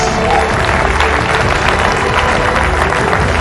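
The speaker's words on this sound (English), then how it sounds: "please put your hands together" A large conference audience at a summit claps loudly and continuously for a guest speaker's entrance, a dense wash of applause with crowd noise, close and unbroken.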